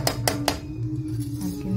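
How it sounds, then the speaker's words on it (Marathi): Metal pot lid lifted off a pan of aubergines cooking over medium gas, three quick bright clinks close by, followed by a low simmering hum. "तर आपण झाकण उघडून बघूया।"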